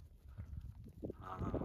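Pregnant goats in a winter pen bleat faintly, a couple of short nasal calls amid low rustling and shuffling, with no one talking.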